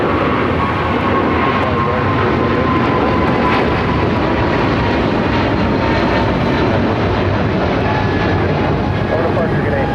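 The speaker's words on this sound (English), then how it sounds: "United 777 now taking off" A United Boeing 777 takes off at LAX, its loud, steady jet engine roar filling the air at close range with continuous broadband thunder.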